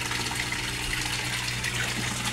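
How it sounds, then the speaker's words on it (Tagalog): A Resun aerator pump runs strongly in water, giving a steady, loud, unbroken rush of bubbling and gushing that holds at the same level throughout with no pauses. "Sa sobrang lakas niya, ang daming bubbles na na-create niya or na-produce niya."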